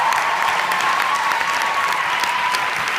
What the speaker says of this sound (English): Massive round of applause for these girls.